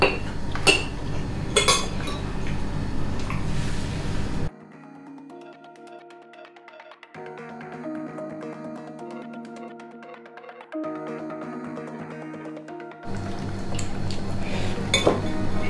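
Dishes and cutlery clink and clatter during a family meal, with bursts of bright metallic taps against plates and bowls, louder at the start and end, with quieter scattered clinks between.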